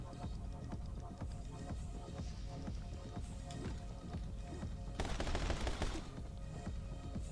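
Dense, continuous gunfire and chaotic action in the combat racing game Choices: Combat Racing, rapid overlapping shots throughout with a louder burst of noise near the end.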